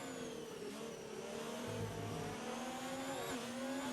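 Ferrari and McLaren Formula 1 cars race in the F1 2019 video game at the British Grand Prix, engines whining steadily at high pitch with a shift in tone midway, moderately quiet and without talk.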